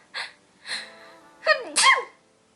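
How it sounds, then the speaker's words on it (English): A close, loud sneeze: two quick sharp inhales build into a forceful burst, with no speech. "Gotta sneeze."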